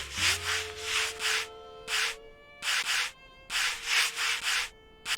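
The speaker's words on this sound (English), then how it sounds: "who knew you could use a sanding brush to get rid of dust," A sanding brush scrubs dust and rust off a part in the Workshop Simulator game, repeated rhythmic rasping strokes in quick bursts with short pauses, alone and close, over a faint steady hum.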